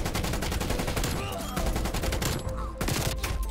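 Rapid gunfire rattles in Call of Duty during a double kill, dense close bursts of shots running almost without pause, with the player's voice briefly under the fire.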